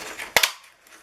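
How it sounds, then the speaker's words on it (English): A paper punch punching out cardstock pieces, producing two quick, sharp clacks close together, crisp and near, followed by quiet. "And punch these out as well."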